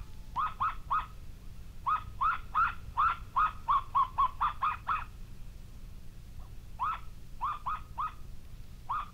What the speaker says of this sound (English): In this land there is a bird that barks but cannot fly